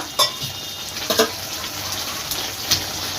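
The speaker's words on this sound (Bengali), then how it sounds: "এবার একটু সামান্য জল দেব সেদ্ধ হওয়ার জন্য" Water splashes into a pan of cooked spices for a cauliflower stem curry, arriving as a few brief pours and splashes over a steady background hiss.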